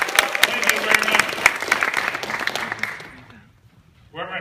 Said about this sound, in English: Let her enjoy a big round of applause as she first out here.